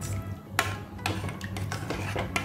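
A spoon stirs milk in a pot while fresh date kheer cooks, giving soft scraping sounds with a few sharper clinks of metal against the pot, fairly close and quiet.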